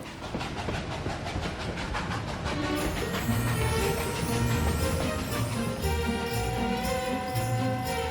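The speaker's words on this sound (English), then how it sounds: "steam billows from a steam-powered train in Cape Town" A steam train in Cape Town chugs with rapid rhythmic puffs and hissing over a heavy rolling rumble, then clanking wheels and metallic rattles take over.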